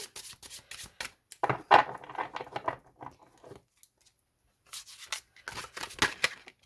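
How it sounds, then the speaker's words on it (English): Tarot cards are shuffled up close in quick papery bursts of riffling and flicking, with short pauses between the bursts. "So I'm just going to shuffle, see if anything will fly out for me."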